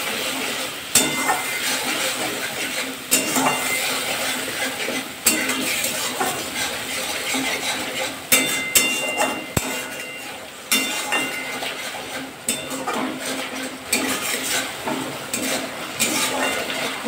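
Spices for a light rohu fish curry with vegetables are stirred and fried in a pan, with a steady sizzle broken by repeated clinks and scrapes of a spoon against the metal, close and loud.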